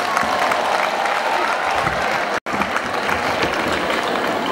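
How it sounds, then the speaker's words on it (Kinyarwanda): An audience at a church celebration at a cathedral parish in Ruhengeri applauds. Dense, loud clapping fills the whole stretch, with a crowd murmur beneath and a split-second dropout in the middle. "dushimira Imana n'amashyi n'impundu."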